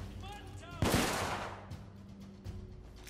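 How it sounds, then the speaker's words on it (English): Revolver fire in the video game The Order: 1886, a single sharp shot with a long decaying tail, faint game music and ambience beneath. "I'm making bad shots with that gun right there."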